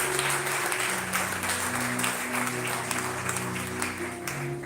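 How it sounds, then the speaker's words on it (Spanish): Sustained applause from a church congregation, dense steady clapping throughout with a low organ or keyboard tone held underneath, no speech. "Prende fuerte aplauso al Señor"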